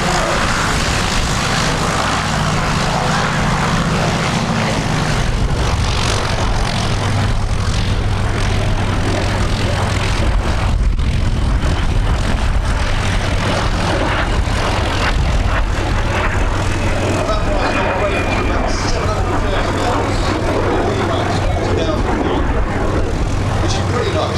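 Steady droning propeller engines of a rare Queen Bee aircraft at Little Gransden Airfield airshow, loud and continuous throughout, with a low rumbling hum and no break in the noise.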